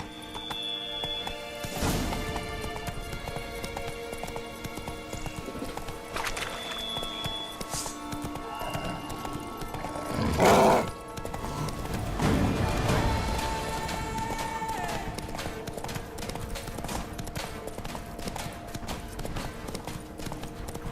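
Roach the horse gallops in The Witcher 3, a steady clip-clop of hooves running for the whole stretch, with occasional louder thuds and a brief speaking voice partway through.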